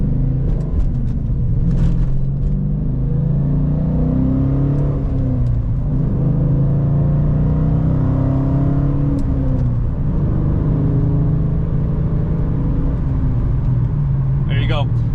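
A 2009 Dodge Challenger R/T engine roars continuously from inside the cabin, revving and dropping in pitch as gears change, loud and close throughout.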